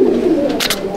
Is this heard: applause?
no